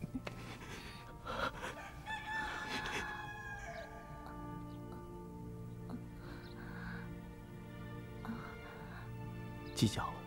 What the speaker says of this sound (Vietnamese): Gà gáy rồi.